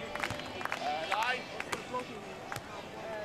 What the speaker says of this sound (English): Crowd are clapping.